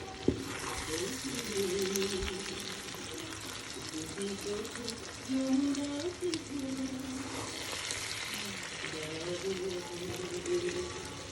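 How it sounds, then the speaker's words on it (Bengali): Bombay chili pickle being stirred as it fries in a pan, a soft steady sizzle with occasional scraping, heard close and moderately loud while someone talks over it. "এখন শুধু নাড়া দিয়েই নামিয়ে দিব।"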